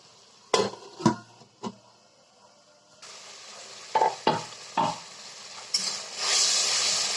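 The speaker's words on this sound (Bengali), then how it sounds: "মশলাটা আমার প্রায় কষানো হয়ে গেছে।" Spice paste of coriander, cumin and other spices with a little water frying in a pan for a spicy chicken curry, with a soft steady sizzle broken by several sharp spoon scrapes and clanks against the pan.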